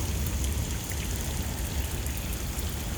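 Steady rain falls during an early-morning thunderstorm, a dense, even hiss of drops hitting surfaces with a low rumbling undertone, with no voices.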